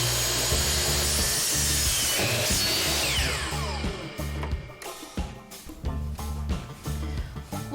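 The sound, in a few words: power saw cutting an angle on a wooden truss board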